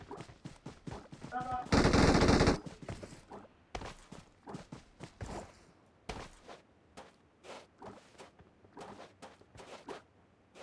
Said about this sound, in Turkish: Nereden sıkıyor lan bu?